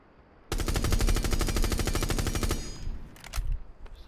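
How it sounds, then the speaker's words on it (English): Rapid automatic gunfire from Thatcher's rifle in Rainbow Six Siege, a dense, loud, evenly spaced burst lasting about two seconds, then trailing off into a few scattered echoing shots and faint clatter. "now let's shoot 2 mags in the middle"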